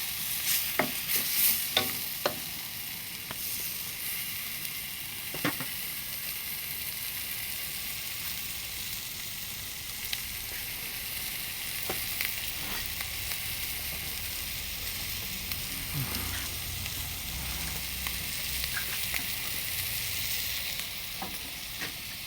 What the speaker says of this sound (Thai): อันนี้เมนูผัดบวบครับ